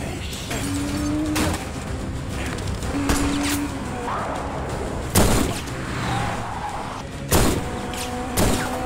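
Several sharp gunshots ring out at intervals over a busy action scene, with talking, vehicle noise and glass-like crashes in between.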